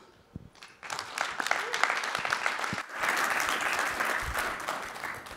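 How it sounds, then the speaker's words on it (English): A conference audience at AusCERT claps for a speaker being introduced, applause swelling in after a brief quiet start and continuing as a dense, steady patter of many hands. "If you give him applause."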